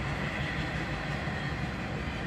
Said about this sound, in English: that train's been coming by for a minute and 38 seconds now